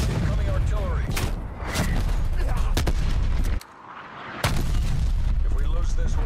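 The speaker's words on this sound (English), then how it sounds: "Net call. Incoming artillery." Artillery shells crash down during a Cartel Assault match in Call of Duty Black Ops Cold War, loud repeated booms and gunfire layered under talk, with a brief lull before the barrage resumes.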